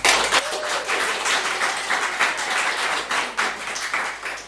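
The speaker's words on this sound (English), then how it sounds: "let us give her a round of applause" An audience at a tech conference talk applauds steadily, a dense wash of many hands clapping from start to finish at moderate loudness with no speech over it.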